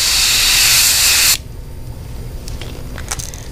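Airbrush or spray gun painting a Missouri Golden Shiner fishing lure, a loud steady hiss that cuts off abruptly, followed by quiet handling clicks and light tapping.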